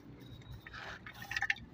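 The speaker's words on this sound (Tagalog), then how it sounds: "Buhos natin siya sa timba" Bostik Power Mix waterproofing liquid poured into a bucket, a soft wet gurgling splash that swells in the middle and ends with a few brighter glugs and drips, close and fairly quiet.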